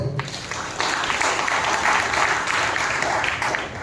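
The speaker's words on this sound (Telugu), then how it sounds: "బిగ్గరగా చప్పట్లు కొట్టండి" A church congregation at a third-week Advent service in Nellore claps loudly in a dense, steady burst of applause that holds from start to finish, with no pause in the noise.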